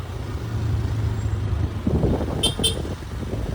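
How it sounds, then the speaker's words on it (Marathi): Busy road traffic close by: a low engine drone, rumbling vehicles passing, and a couple of short high horn or brake hisses. "फुल ट्रॅफिक एकदम."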